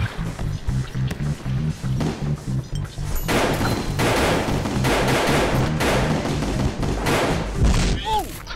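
Bomb blasts in the game Gun Monkeys: after a stretch of rhythmic thumping gameplay, a long run of heavy, crashing explosions erupts, loud and dense, with a player talking over parts of it.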